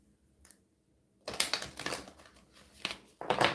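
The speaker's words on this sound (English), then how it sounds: "One more shuffle." Tarot cards being shuffled, a faint tap followed by bursts of crisp riffling and slapping close up, in two quick runs separated by a short pause.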